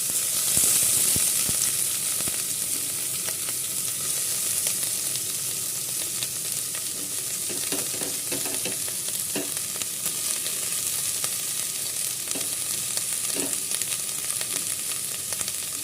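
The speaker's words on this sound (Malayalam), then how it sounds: "ഇനി നമുക്ക് ഇതിലേക്ക് നമ്മൾ അരിഞ്ഞ് വെച്ചേക്കുന്ന സവാള സാവധാനം ചേർത്ത് കൊടുക്കാം" Chopped onions are added to green chillies frying in oil in a pan for a green pepper chicken curry, producing a close, steady sizzle with occasional stirring knocks and scrapes.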